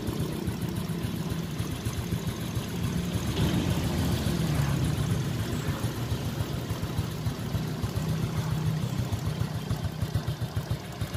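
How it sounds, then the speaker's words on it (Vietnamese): Honda Wave Thai 110 motorcycle from 1999, fitted with a Thai exhaust, idling close by in a quiet spot, a steady low throbbing engine note running throughout with no talk. "Chỗ này yên tĩnh, quay anh em nghe tiếng máy rõ hơn nha."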